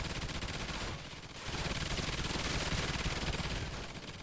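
Automated turrets in Call of Duty Extinction fire machine guns in a continuous loud, dense rattle that dips briefly near the start and then keeps hammering.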